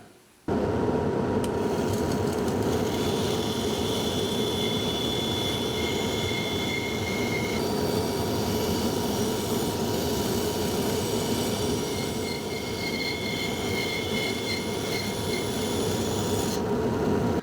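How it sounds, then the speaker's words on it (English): A bandsaw trims wooden guitar kerfing in a woodworking shop, a loud continuous rasping whine with a high steady tone that runs unbroken for the whole stretch, no talk. "I'm just going to take this up to the bandsaw and trim this down on the outside"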